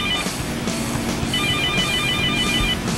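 A phone ringtone trills in repeated bursts over a noisy room background, fairly close and loud, with no talking heard.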